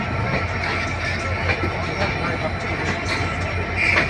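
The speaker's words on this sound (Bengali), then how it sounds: "এই মুহূর্তে নাটোর স্টেশন ক্রস করছি" Train rolling through Natore station in Bangladesh, a steady dense rumble and clatter of the moving train close by, continuous and even throughout.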